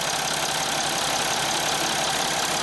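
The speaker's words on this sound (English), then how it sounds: "The engine sounds a lot better. It's smooth. It's no longer misfiring." A Mercedes Sprinter engine idles steadily and evenly after a cylinder misfire repair, a constant close-up mechanical drone with no voices over it.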